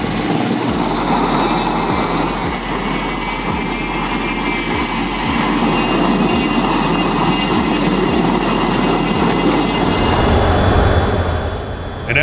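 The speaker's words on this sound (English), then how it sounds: "An F-18 leads a high-speed carrier break, bringing a section of fighters back to the carrier at 500 knots" An F-18 leading a section of fighters in a high-speed carrier break at 500 knots, producing a loud, sustained jet roar with a high whine layered on top, which fades away near the end.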